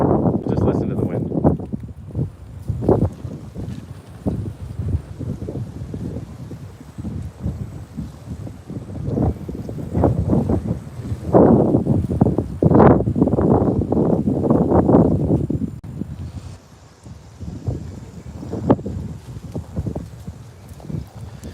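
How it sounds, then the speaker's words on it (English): Strong wind buffets the microphone outdoors on a city street, a loud, rough, continuous roar that swells and gusts throughout. A voice speaks intermittently over it. "Oh wow, it's really windy."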